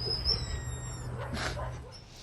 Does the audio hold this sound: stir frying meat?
no